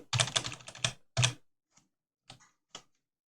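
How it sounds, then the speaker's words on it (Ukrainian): A computer keyboard key is tapped quickly several times, a burst of clicks followed by a few single, sparser presses with silence between them, close and clear. "Тобто я натиснув зараз W і кілька разів натискаю"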